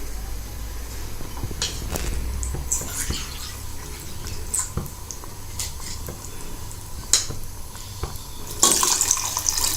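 Water poured into a cooking pot over chicken pieces for Moroccan rfissa, a faint steady trickle with scattered clinks and knocks of utensils against the pot, close by, with a louder splashing burst near the end.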